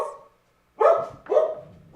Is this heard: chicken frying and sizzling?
no